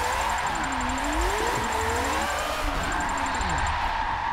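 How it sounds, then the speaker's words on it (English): A Mazda MX5 drift car fitted with a four-rotor engine, heard in a racing video game, whines steadily with rising and falling pitch sweeps as it revs through corners, loud and continuous. "Four rotors are definitely very loud, very angry, but a lot of fun to drive"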